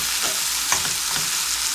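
Strips of poultry browning in a hot pan, a loud, steady sizzle with faint stirring scrapes throughout and no talking.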